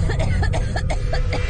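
A rapid run of harsh coughs, used as an effect in a narrated horror story, comes in quick rhythmic bursts, close and fairly loud over a low rumbling background.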